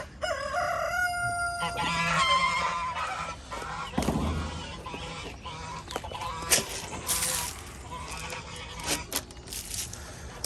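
Barnyard chickens clucking alongside honking geese, with a rooster crowing in several bursts on a homestead morning; busy, overlapping fowl calls fill the scene close by without talk.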